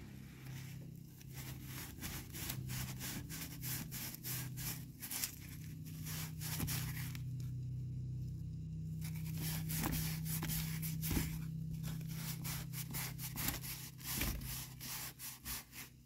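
A Scotch pad scrubs an engine part, the balancer on a 1999 Chevrolet 4x4 4.8 during an oil pump replacement, with rapid rhythmic rubbing strokes that run steadily for a long stretch, close by and fairly quiet.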